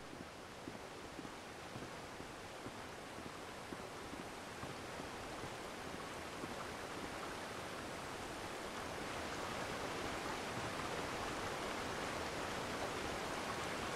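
A flowing river in the video game Eastshade, a steady broadband rush of water that stays even and moderately loud throughout, swelling slightly toward the end with no voices.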